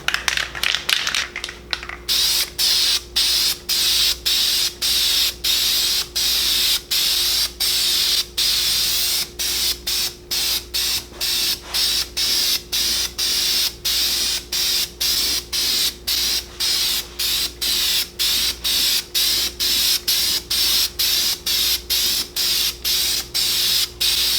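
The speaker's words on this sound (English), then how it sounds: "you wanna shake your can really well before you start spraying" Krylon truck bed coating aerosol can spraying wheels, a steady close hiss running almost the whole time, broken by a rapid run of short bursts at the start and many brief gaps as the nozzle is pressed and released.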